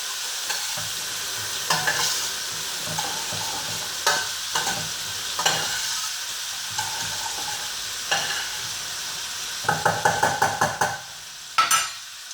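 Cabbage soup simmers in a pot on the stove, giving a steady soft bubbling hiss with repeated scraping stirs and clinks of a utensil against the pot, close by and with no talking.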